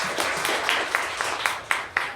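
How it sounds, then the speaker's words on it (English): An audience at a sixth grade graduation claps in a brief, moderately faint round of scattered applause, with a few sharper claps near the end. "let's clap for Leah"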